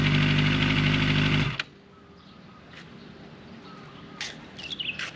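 Kawasaki ZX25R motorcycle exhaust fitted with a dB killer roars loud and close for about a second and a half, then cuts off abruptly, leaving a quiet outdoor background with faint bird calls.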